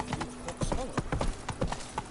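Roach, the horse in The Witcher 3: Blood and Wine, gallops at a steady pace, with hooves clopping in a brisk repeating rhythm under a faint background tone.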